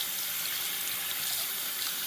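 Hot water runs steadily from a tap for rinsing a sponge while cleaning a reef tank's pump, a continuous close splashing hiss with no break.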